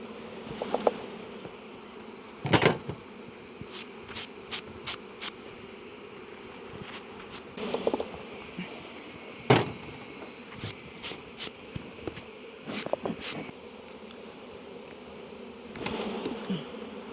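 A steady drone of many honeybees buzzing close by at an open hive during honey harvest, with occasional sharper clicks and taps breaking through the constant hum.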